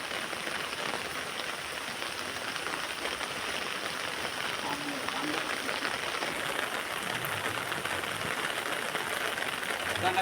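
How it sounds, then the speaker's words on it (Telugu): Rain falling steadily outdoors, a constant dense patter and hiss on surfaces that holds at an even level throughout, with no one speaking. "వర్షం చూడండి ఎలా వస్తుందో."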